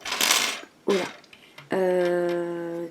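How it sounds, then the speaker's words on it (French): Metal bobbins for a Brother Little Angel KE14s sewing machine clink together close up: a bright rattle, a second sharp clink, then a longer ringing metallic tone that fades slowly, with no talking over it. "4 canettes, donc il y en a une qui est dans la machine."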